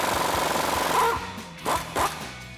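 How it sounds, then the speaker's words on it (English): An impact wrench with a 24mm socket hammers at a ball joint nut on the front lower control arm of a 2007-2015 Chevrolet Silverado 1500. A loud, continuous rattling hammer is followed by two short bursts. "We're gonna use our impact and 24mm socket and take a hammer and break this free."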